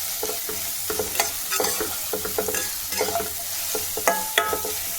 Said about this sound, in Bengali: আর একটু নেড়ে দিলাম।